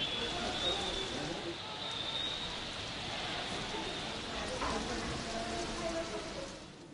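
Heavy monsoon rain pours down on a city in Nanded district, a dense, steady hiss of downpour that holds at an even level throughout and fades slightly at the end.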